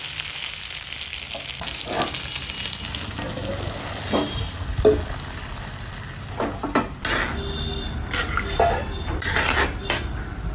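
Water goes into a hot pan where kohlrabi and a red bhetki fish head have been browned without onion or garlic, bringing a surge of sizzling amid clattering utensil knocks and scrapes close up.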